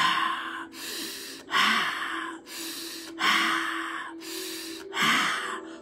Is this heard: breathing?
yes